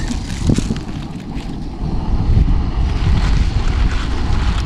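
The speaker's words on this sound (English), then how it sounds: "There's our wind back. Wind is back to help." Strong outdoor wind at a backpacking campsite rumbles and buffets the microphone in a loud, continuous roar that swells midway, with no talking.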